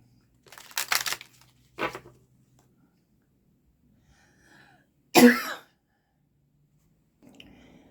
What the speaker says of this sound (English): I was coughing like a maniac.